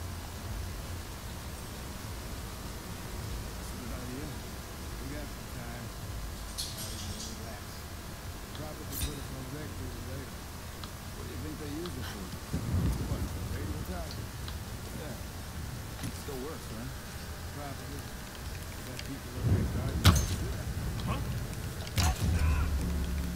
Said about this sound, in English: Nah, let's wait out the storm.